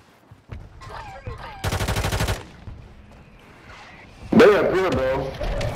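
A rapid burst of automatic gunfire rattles in a first-person shooter game, followed later by a louder blast, with voices speaking between the shots.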